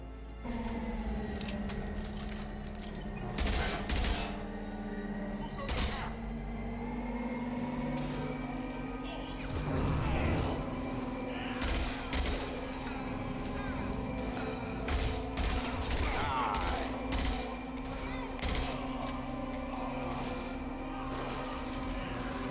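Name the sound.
gunfire in Mass Effect 2 video game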